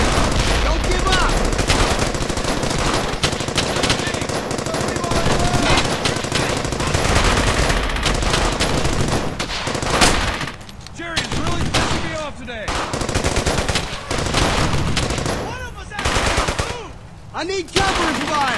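Heavy gunfire in the World War II shooter game Brothers in Arms: Hell's Highway, sustained machine-gun bursts and rifle shots in a loud, dense barrage with shouted voices mixed in.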